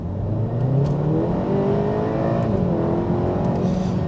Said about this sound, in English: if I slow right down, change down a gear, and then accelerate.